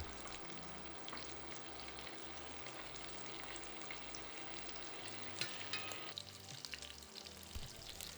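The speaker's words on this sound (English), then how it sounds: "Add the chicken to the pot in a single layer, you may need to do this in batches, and sear until golden on all sides." Chicken pieces searing in a single layer in a pot for coq au Riesling, a steady close sizzle and crackle of fat running throughout with no talking.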